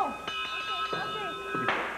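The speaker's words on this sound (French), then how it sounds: "Sonnez la cloche, OK? Sonnez la cloche." A bell rung several times on the Fort Boyard game show set, bright ringing strikes spaced irregularly over a steady electronic hum, with faint voices in the background.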